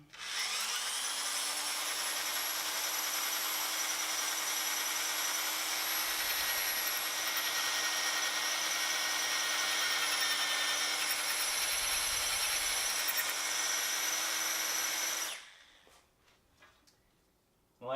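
A power drill bores out a stuck bolt in a motorcycle fork in a garage, a steady high whine running continuously for about fifteen seconds before stopping abruptly.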